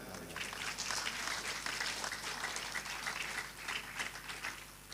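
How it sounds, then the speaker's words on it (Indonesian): Audience at an Islamic school graduation ceremony claps steadily for about five seconds, a dense but fairly faint patter of many hands without voices. "Boleh tepuk tangan buat kalian."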